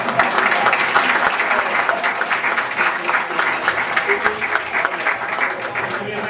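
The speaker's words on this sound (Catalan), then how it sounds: "un aplaudiment" An audience applauds at a dramatization and round-table event, a sustained, moderately loud burst of many hands clapping at once that carries on evenly for several seconds.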